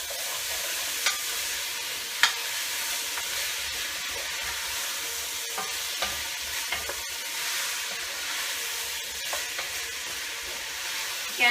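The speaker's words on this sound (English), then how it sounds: "Okay, we'll stir these around." Vegetables sizzle and get stirred in a soup pot over heat, a continuous close hiss with occasional clicks and scrapes of the spoon, no voices over it.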